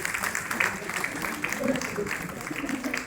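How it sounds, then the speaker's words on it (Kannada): An audience at a state award ceremony applauds three prize winners, a steady wash of clapping heard through a hall, with voices mixed in underneath. "ಈ ಮೂವರಿಗೂ ಚಪ್ಪಾಳೆಯ ಪ್ರೋತ್ಸಾಹವನ್ನು ಸಲ್ಲಿಸೋಣ"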